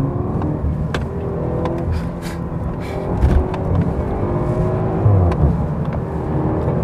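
BMW 320i xDrive with M package accelerating at full throttle from inside the cabin, a steady droning engine rumble with rising tone and a few brief thumps, heard close and continuous.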